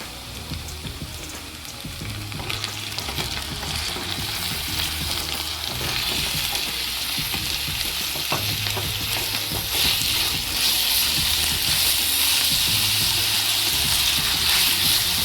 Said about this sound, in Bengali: এবার মটনের কিমাটা দিয়ে দেবো।